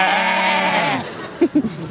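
A sheep gives one long, loud, wavering bleat up close, followed by a few short, soft thumps.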